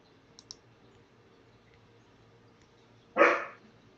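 Karma the dog gives a single bark, fairly close, after a couple of soft clicks in a quiet room; otherwise faint background hum.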